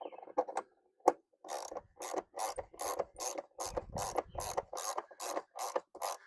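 Short, crisp clicks repeat in a steady rhythm as a screw is turned by hand into plastic trim on the roof of a Toyota RAV4 during a water-leak repair. The sound is close and fairly quiet, with no one talking.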